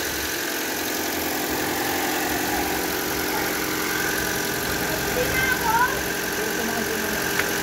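Steady idle of a 2014 Toyota Altis engine running smoothly just after an ignition coil and spark plug replacement, an even hum heard up close with people talking over it.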